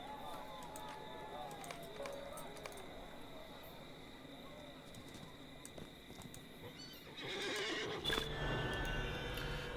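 A horse whinnies faintly in a video game, set against busy game ambience with hoofbeats and shuffling, while someone talks over it.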